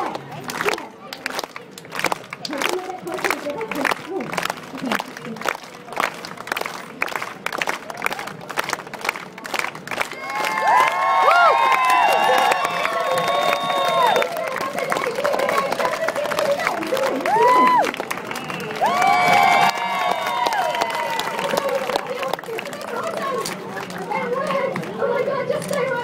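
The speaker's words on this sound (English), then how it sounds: "you guys are just slow hand clap. Everyone can clap." An audience at a hula hooping show keeps up a slow, steady hand clap, the evenly spaced claps running under children's voices and crowd chatter, and the chatter grows busier partway through.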